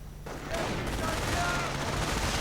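Sustained bursts of MG42 machine gun fire in a World War II strategy video game, dense and loud after a brief quiet start, with a voice talking over it.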